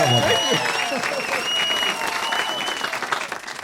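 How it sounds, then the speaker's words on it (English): A live comedy club audience at Laugh Out Lounge bursts into dense, sustained applause for a podcast recording, with voices and cheers rising over the clapping throughout. "Give him a round of applause, everybody."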